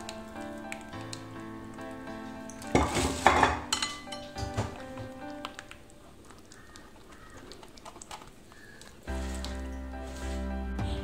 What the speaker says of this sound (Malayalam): ഒരരിപ്പ വെച്ചിട്ട് ഞാനിതൊരു ക്ലീൻ ബൗളിലേക്ക് ഒഴിച്ചെടുക്കണം.